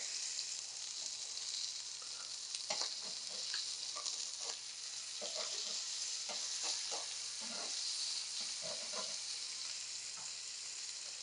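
Wild boar pieces sizzle on a hot grill with a constant bright hiss, dotted with small pops and crackles, close and steady with no talking.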